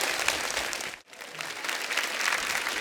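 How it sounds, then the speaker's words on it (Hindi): A studio audience on The Kapil Sharma Show, a Hindi television comedy show, gives loud, continuous applause. The clapping dips for a moment at about one second, then swells back strongly. "अंकिता लोखंडे के लिए जोरदार ताली हो जाए।"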